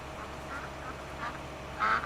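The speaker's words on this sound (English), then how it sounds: "got some geese flying over" Geese honking as they fly over a farm in Farming Simulator 19 Seasons, a few faint calls over steady background, with the loudest call near the end.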